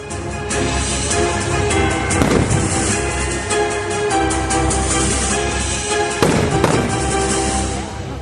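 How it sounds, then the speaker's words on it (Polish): A captured machine gun fires at a reenactment of the Battle of Miedzichowo, with two sharp outdoor bursts of rapid shots standing out over constant wind and crowd noise. "za chwilę zdobyty karabin zacznie grać w rękach polskiego operatora"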